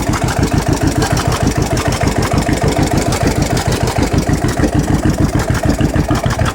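A tractor's diesel engine idles steadily with a fast, even chugging throb, loud and close, with no other sounds.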